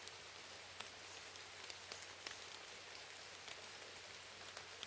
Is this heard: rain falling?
yes